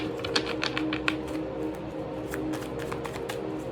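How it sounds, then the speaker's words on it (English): A deck of tarot cards being shuffled by hand, quick crisp riffling bursts and soft card slaps in a loose rhythm, close and fairly quiet, with no talking. "One more shuffle."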